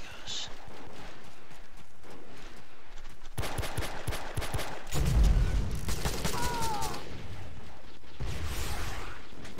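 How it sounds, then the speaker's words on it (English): Rapid machine gun fire in the video game Joint Operations: Typhoon Rising arrives in a few bursts of clattering shots against steady background game noise, with a voice talking at times. "You can use this machine gun."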